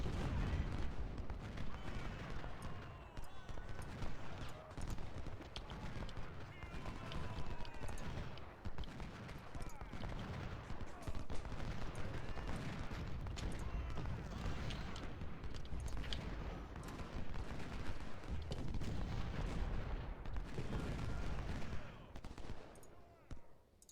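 Dense, continuous musket and cannon fire in a Civil War battle strategy game, Union Legendary difficulty at Philippi, with crackling volleys and booming artillery rolling throughout.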